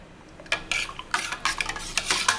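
A spoon scrapes and clinks against a pot while stirring millet porridge in irregular strokes, close and moderately loud, with no talking.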